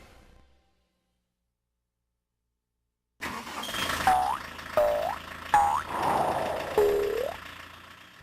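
Engine of a 1971 Chevelle Clone SS: after a quiet gap, a loud, close engine starts and is revved several times, each rise settling back into a rumbling idle between blips.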